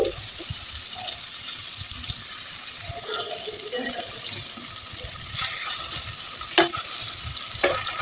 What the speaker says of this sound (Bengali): এখন হলুদ লবণ মরিচ মেখে মাছটাকে হালকা করে ভেজে নেব